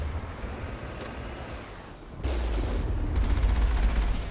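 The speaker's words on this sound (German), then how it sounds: "weil die Schüsse sind so langsam." Gunfire in the video game Mass Effect: several separate booming shots spaced a second or so apart over a low rumble, followed by a heavier blast near the end, all fairly loud with no talk over them.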